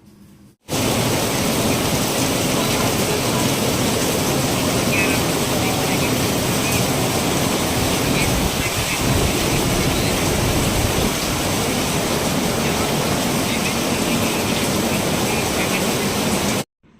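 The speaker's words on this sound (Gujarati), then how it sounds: "આવો ધોધમાર વરસાદ હોય" Heavy downpour of rain roaring steadily and loudly as a dense, unbroken hiss for the whole stretch, beginning abruptly and ending abruptly.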